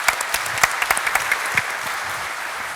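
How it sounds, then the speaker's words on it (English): An audience at a manufacturing industry conference claps for a speaker. Moderate, fairly even applause runs throughout with a few sharper individual claps on top, and no talking over it. "Let's give him a proper round of applause"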